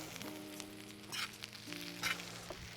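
Kale mallung frying in a pan with coconut added for a Sri Lankan side dish, giving a steady close sizzle with a couple of brief louder crackling bursts and a low tonal hum underneath.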